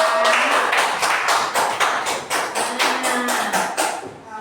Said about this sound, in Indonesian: Pokoknya tepuk tangan dong untuk sekolah kita.